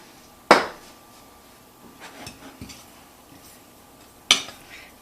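A utensil clatters against a bowl while seasoned potatoes for hash browns are mixed with salt and pepper, with two sharp clinks standing apart and softer scraping and stirring noises between them.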